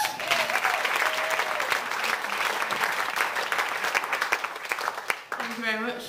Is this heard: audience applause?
yes